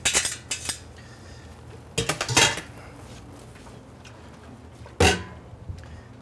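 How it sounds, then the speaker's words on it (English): Angel hair pasta and cooked flounder tossed in a pan, with sharp metallic clatters of utensil against pan in quick bursts near the start, around the two-second mark and again near the end, separated by quiet gaps. "So we're gonna add the angel hair right to the pan."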